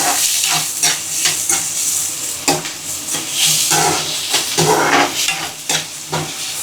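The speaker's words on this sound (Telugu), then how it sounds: "తర్వాత ఆనియన్స్ వేసుకోవాలి తర్వాత మిర్చి వేసుకోవాలి ఇది గోల్డెన్ కలర్లోకి వచ్చిన దాకా మనం ఫ్రై చేసుకోవాలండి" Onions and green chillies fry in a pan for a gac fruit curry, with a steady close sizzle and hiss broken by repeated scraping stirs, and no talking.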